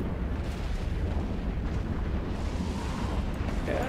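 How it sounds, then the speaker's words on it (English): Missiles launch and detonate during a large EVE Online fleet mass test on the test server, a dense continuous rumble of distant blasts with no clear separate hits, steady and loud throughout. "So there go the missiles."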